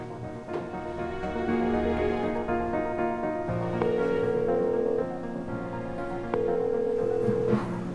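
Sustained steady electronic tones and background music-like harmonics, a telephone ringback tone repeating in long even bursts, fairly close, with no speech.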